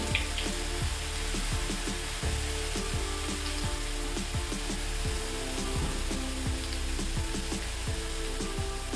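Boondi batter for motichoor laddoo drops into hot oil and fries with a dense, close crackling sizzle, steady and continuous with quick popping bursts and no talking.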